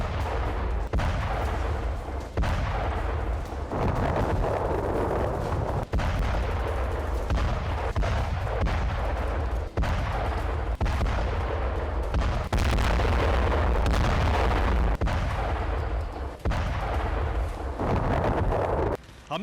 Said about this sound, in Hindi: बमबारी कर रही है।